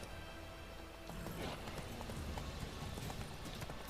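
Horse hooves clip-clop steadily in the video game The Witcher 3, a continuous brisk gallop that grows a little louder after the first second, heard alone without talk.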